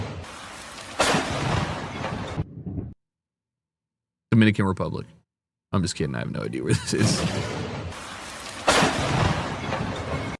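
Thunder and rain at an outdoor tennis match in wet, stormy conditions come through as a loud wash of rain and deep rumbling booms, broken by a few silent gaps, with a voice talking over much of it.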